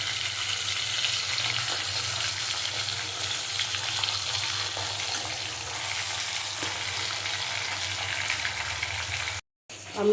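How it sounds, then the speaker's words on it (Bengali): Pieces of bhetki fish fry in hot oil with a loud, continuous crackling sizzle that holds steady for about nine seconds before a brief cut and a final burst. "তেল আমার গরম হয়ে গেছে এক করে মাছগুলো দিয়ে দেবো আমি মাছগুলো লাল লাল করে ভেজে দেবো আমি"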